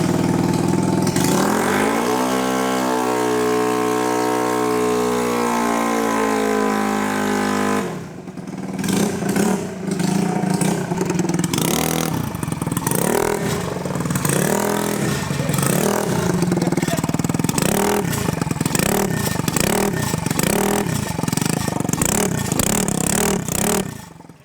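GY6 scooter engine with a very loud aftermarket exhaust, holding a steady rising drone at first, then revving in rapid repeated bursts up close in a garage setting, loud throughout.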